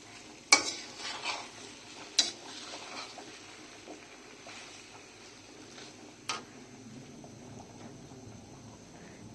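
Salt is stirred into olives fried briefly in a pan for a sweet-and-spicy chutney, with a soft low sizzle broken by a few sharp clinks and scrapes of a spoon against the pan.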